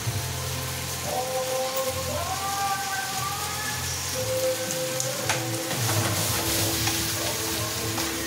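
Pork and vegetables sautéing in a hot pan, a constant crackling sizzle with occasional stirring scrapes, close and steady, while a voice talks over it.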